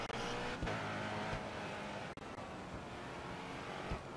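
Race cars in GRID Autosport, including a Koenigsegg Agera, roaring past with revving engines and brief tire noise, a loud continuous drone that shifts in pitch over a few seconds.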